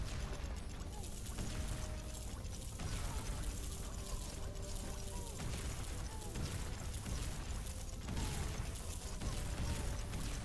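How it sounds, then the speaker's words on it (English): Tower explosions in the tower defense game Emberward, a dense continuous wash of booms and crackling bursts repeating through the stretch, fairly muted and blended with game noise. "Yeah, those explosions are doing work."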